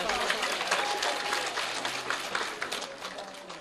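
Applause rises from the audience at a government primary school award ceremony, a dense patter of clapping under a loud voice speaking over it.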